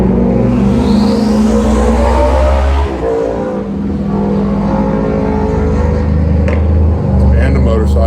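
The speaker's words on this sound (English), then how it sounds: "here comes a hot rod" A hot rod car roaring past outdoors, a loud deep engine rumble that swells and fades, with a person's voice faintly heard near the end.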